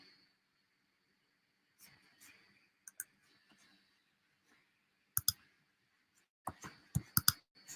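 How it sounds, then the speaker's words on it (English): Sharp mouse clicks on a computer during an online lesson, scattered single clicks and then quick bursts of several, close and fairly faint in a quiet room with a little breathy sound in between. "I'm clicking my screen too quick."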